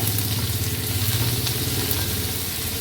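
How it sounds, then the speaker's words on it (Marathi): Crushed garlic cloves crackle and sizzle continuously in hot oil, an even, close frying hiss with a low background hum and no one speaking. "ह्या दहा ते बारा लसणाच्या पाकळ्या ज्या आपण चेचून घेतल्या त्या फोडणीला घालूया"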